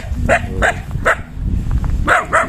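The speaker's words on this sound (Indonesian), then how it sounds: "Nah, ini menggonggong terus." A dog barks loudly and close by in a quick series of about five sharp barks, with a short pause before the last two.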